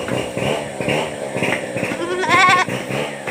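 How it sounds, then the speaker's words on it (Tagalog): An orphaned goat kid bleats at close range, a few wavering cries rising toward the end, with someone speaking to it around the calls on a Filipino farm. "ito po yung kambing naming ulila"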